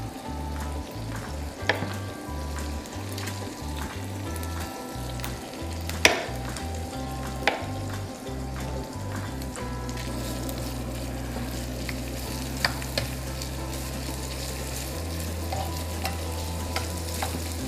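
Broccoli sizzles steadily in a hot pan at Paolina-style pasta prep, with occasional sharp scrapes and knocks of stirring over a continuous frying hiss, close and without talk.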